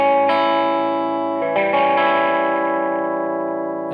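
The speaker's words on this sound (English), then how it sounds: "this one has a kind of tense quality to it because dominant 7 chords are meant to resolve to something" An electric guitar rings out a dominant 7 chord with the bottom string muted, strummed twice with a brief break between, the harmonics sustaining loudly through effects with slight echo and chorus.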